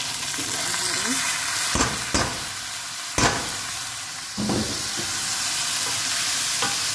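Soaked moong and masoor lentils sizzle in a pot as a spoon stirs them, steady frying hiss broken by several sharp scraping clatters of the utensil.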